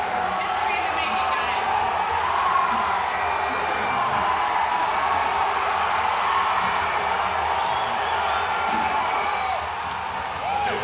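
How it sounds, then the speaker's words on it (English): A crowd reacts with scattered cheers, whoops and some clapping after a Falcon 9 first-stage booster landing, a steady noisy wash of voices at moderate distance throughout. "you hear just a little excitement from the crowd"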